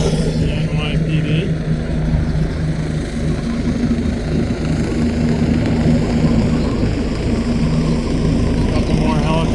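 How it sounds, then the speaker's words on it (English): Helicopters flying over the Hudson River during a Fleet Week parade of ships give a steady, loud engine and rotor drone, with someone talking over it throughout. "A couple more helicopters coming up."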